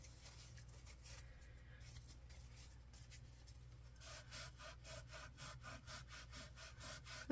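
Dirt is scrubbed off a grungy journal in faint, close, rhythmic brushing strokes that grow quicker and more regular partway through.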